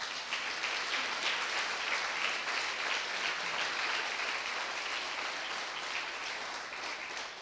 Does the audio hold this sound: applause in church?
yes